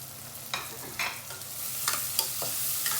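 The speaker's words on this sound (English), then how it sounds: "we're just gonna saute this" Tomatoes sauté in a pan as part of lentils with spinach, with a soft sizzle beneath a few sharp stirring clicks and scrapes, fairly quiet and close.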